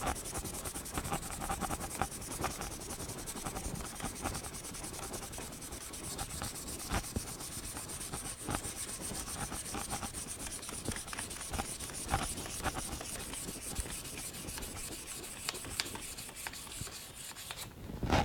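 Steady, quiet scratchy rubbing of sandpaper on a wooden pen by hand, continuous back-and-forth strokes up close with no speech.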